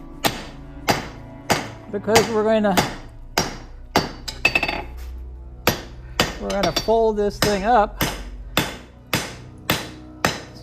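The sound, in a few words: hand hammering a forged katana steel blade smooth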